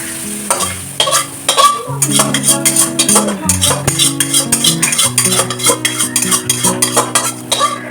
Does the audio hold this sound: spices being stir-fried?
yes